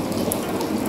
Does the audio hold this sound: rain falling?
yes